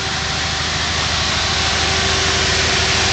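A Lexus GS300 with a swapped-in Toyota Aristo 2JZ engine, stock apart from intake, exhaust and a side-mount aftermarket radiator, idles steadily and loudly up close, a constant unbroken drone with no voices.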